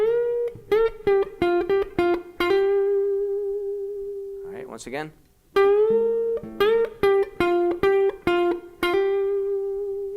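Electric guitar notes with string bends and quick hammer-ons, played in short phrases; a brief spoken remark interrupts midway.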